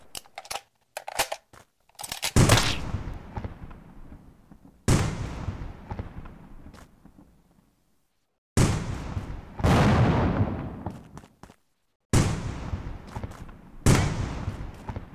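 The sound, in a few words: gunfire in a video game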